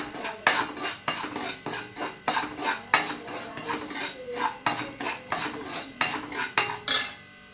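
Semolina roasting in ghee in a kadai, with a spoon scraping and knocking against the metal pan in regular strokes, sharp clinks repeating about every half second, close and fairly clear, with no talking.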